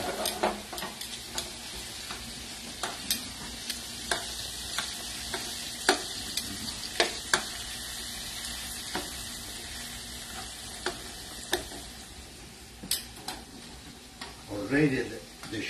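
Shrimp cooking in a pan with garlic, pepper and pepper flakes for shrimp scampi, a quiet steady sizzle with regular light utensil taps against the pan, close, and a brief murmur near the end.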